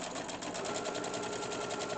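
A sewing machine stitches a seam on a tea bag wallet, giving a steady, rapid, even rattle that runs without a break, close and fairly soft, with no talking.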